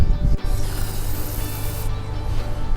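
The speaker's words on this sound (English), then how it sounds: "Shoot it with a little dust or a little aerosol" An applicator blows insecticide dust through a tube into a carpenter bee hole in wood, a steady close hiss of spraying that starts after a brief knock and runs about a second and a half before easing off.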